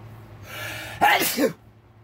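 A single sharp sneeze, preceded by a short breathy intake, close and clear against a quiet background.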